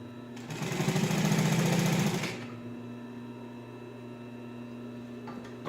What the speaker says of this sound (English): I'm not real used to running this machine, so I might be going a little bit fast.